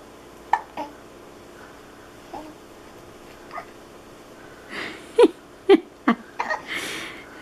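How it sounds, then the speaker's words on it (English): A baby girl's hiccups, a few soft hiccup bursts spaced through a quiet room, louder and closer together toward the end, with faint breathing between them. "She's got the hiccups."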